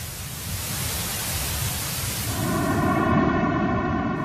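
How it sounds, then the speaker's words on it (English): A hissy sonification of the Big Bang afterglow: a steady wash of broadband static that grows slightly louder, with faint sustained tonal bands emerging through the hiss in the second half. "As hissy as the early cosmic sound is, it differs from pure white noise,"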